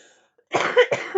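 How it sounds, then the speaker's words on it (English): A person coughs close up in two quick, harsh bursts after a moment of near silence. "I still have this cough."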